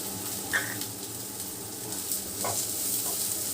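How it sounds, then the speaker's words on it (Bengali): Chopped onions fry and get stirred in a hot pan for a momo filling, giving a close, steady sizzle with a few soft scraping stirs and no talking. "পেঁয়াজ দিয়েও ভালো করে এক দু সেকেন্ড নাড়াচাড়া করে ভেজে নেব"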